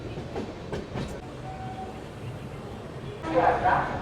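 Humsafar Express train pulling out of Bardhaman station, with a steady low rumble and rhythmic wheel clatter heard from inside the carriage, plus faint voices and a louder burst of rolling noise near the end.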